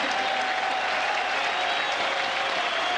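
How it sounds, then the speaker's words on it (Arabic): Football fans at a friendly between the Republic of Ireland and Algeria applaud a substituted Ireland star, a broad continuous wash of crowd clapping from the stands with a faint steady tone underneath. "هكذا تخرج نجوم ايرلندا تحت تصفيقات انصارها"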